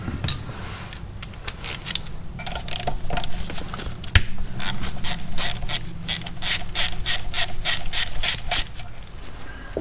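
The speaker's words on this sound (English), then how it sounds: "I'm going to start by loosening up this little bolt here." A hand ratchet works a bolt loose on a disassembled 1984 Honda Shadow 500 engine, giving rapid, close clicking bursts in quick repeated strokes with brief pauses between them, heard alone.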